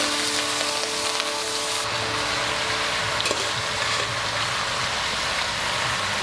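Chicken stir-frying in sesame oil with ginger, a loud steady sizzle and crackle close up, with occasional scrapes of stirring over the continuous frying hiss.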